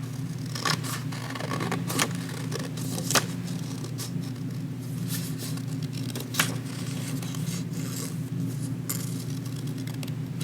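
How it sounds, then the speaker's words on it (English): Scissors snip out paper polar bear parts for a kindergarten craft, a series of sharp, scattered cuts and paper rustles over a steady low hum of room noise. "then I'm going to cut out the next part"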